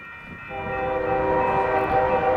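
A Union Pacific mixed freight train rolls past in an Iowa winter, its horn sounding a loud sustained chord that swells from moderate to strong and holds steady, close by, with no voices.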